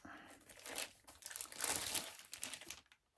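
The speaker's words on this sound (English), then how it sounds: "I'll pull it out once I can get past the tape" Tape being peeled and plastic packaging crinkling on a comic book mailer, a close, faint run of ripping and rustling bursts that stops abruptly near the end.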